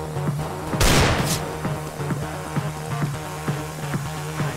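Gunfire in a Counter-Strike: Global Offensive minigame, a single loud burst of shots near the start followed by faint, evenly spaced ticks and a low steady hum.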